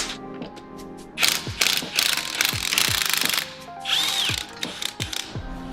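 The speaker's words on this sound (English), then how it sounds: "Take the bolts out." Rapid metallic ratchet clicking comes in repeated bursts as bolts are loosened and removed from bracing on a Subaru WRX VB, close and clear with brief pauses between spins.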